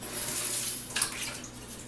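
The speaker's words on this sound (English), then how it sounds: "Now, I'm going to give this a quick rinse and then pat dry" Running tap water splashes steadily over a raw turkey being rinsed in a kitchen sink, a continuous close hiss with one brief louder splash midway, no talking.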